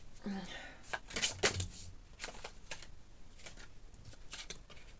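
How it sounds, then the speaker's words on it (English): A deck of tarot cards is shuffled close by at low volume, with quick riffling and flicking bursts in a steady, uneven rhythm throughout. "These cards are quite hard to shuffle."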